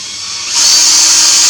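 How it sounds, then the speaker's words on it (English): A power drill spins up and its whine rises to a loud, steady high-pitched drone, close by with no talking, drilling out a hole during water pump repair on a 1980 Triumph TR7. "Drill it out to an 8."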